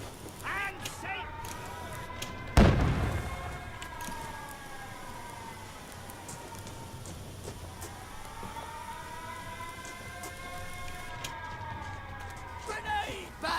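Bombing in the video game We Happy Few: a wailing air-raid siren rises and falls throughout, with a single heavy, close blast bursting early on, while voices shout over the din.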